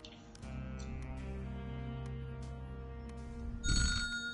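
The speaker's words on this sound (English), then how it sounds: "The phone's ringing." A telephone rings inside the video game Dreams, a sustained electronic bell tone with steady harmonics that runs for several seconds. A brighter burst of sound near the end overlaps it, and no one talks.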